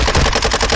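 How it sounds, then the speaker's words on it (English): Rapid automatic gunfire in Call of Duty: DMZ, a loud close burst of about seven evenly spaced shots packed into under a second. "You are taking effective fire."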